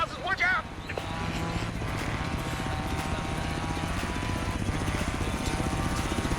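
Helicopter in the racing video game Forza Horizon 3, carrying a Jeep on four cables: a steady, loud rotor chop with a dense rhythmic beat and engine whine throughout, with a short burst of voice at the very start.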